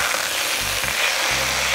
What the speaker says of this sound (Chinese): 放入一点葱段，我们把油面筋倒下去， 稍微翻滚一下。